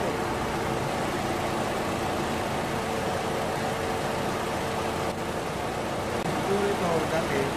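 A Toyota Vios engine runs noisily and steadily, a dense continuous rumble heard close up, with talking over it.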